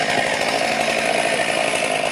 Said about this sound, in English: We use a chainsaw first, and there we go.